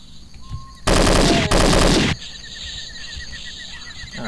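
Enemies in a Doom 2 mod open fire in a loud burst of rapid gunfire lasting just over a second, with a brief break in the middle, against a quiet game backdrop.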